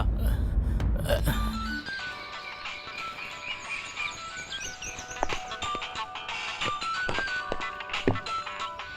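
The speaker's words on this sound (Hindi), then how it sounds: "अब इस समय ये किसका फोन आ गया?" A phone ringtone plays a repeating electronic melody of tones in a dubbed action movie scene, with light tapping and rustling around it.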